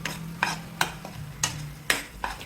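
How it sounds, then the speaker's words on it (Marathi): Tomato puree with salt stirred in a pan, about half a dozen sharp scrapes and taps of the spoon against the pan in an uneven rhythm over a low simmering background, close and clear. "हे मीठ छान मिक्स करून घेतल्यानंतर पूर्ण प्युरीला पुन्हा एकदा हलवून घ्यायचे आहे"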